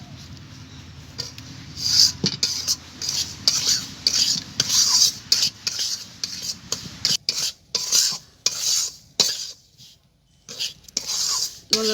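Semolina frying in plenty of ghee while being stirred continuously in a pan, giving repeated scraping and soft sizzling strokes in an irregular rhythm, close and fairly clear, with a quiet pause near the end.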